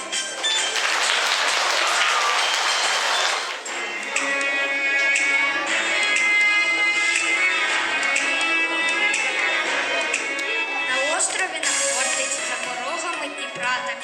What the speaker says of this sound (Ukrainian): Тож зустрічаємо бурхливими оплесками.